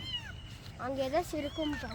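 A small kitten left outside in the grass mews in a string of thin, high, wavering cries, close and clear, while a person talks alongside.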